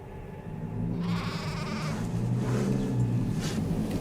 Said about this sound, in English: Now Abel was a keeper of sheep